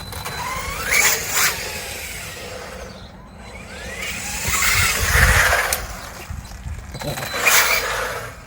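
A WLtoys 124018 RC car fitted with a brushless motor drives on new tyres, its motor whining up in three short rising bursts, the middle one longest, with quieter gaps between them.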